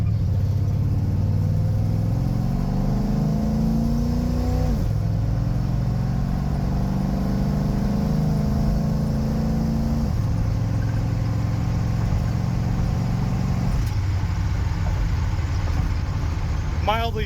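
A Chevy truck towing a plow truck pulls along in first gear, its engine rumbling steadily up close with rising and falling revs, and a low drone runs throughout.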